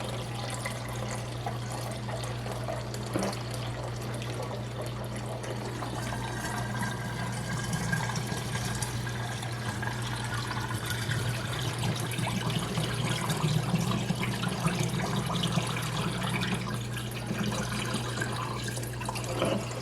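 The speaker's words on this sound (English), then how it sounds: "we got our funnel in here and we're gonna just pour it straight in the bottle here" Kombucha being poured through a funnel into a bottle makes a steady, close trickle and splash of liquid, continuous over a low hum and gradually growing slightly fuller.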